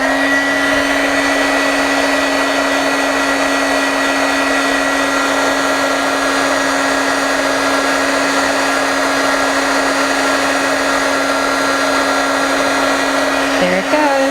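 A heat tool blows hot air onto a shrink-plastic craft piece with a loud, steady whirring drone and a constant motor whine, running unbroken and close.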